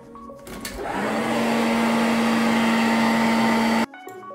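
Hair dryer in a Doha airport hotel room, an Oryx Hotel bathroom, switched on for a steady, close, loud whirring blow with a constant hum for about three seconds before cutting off abruptly.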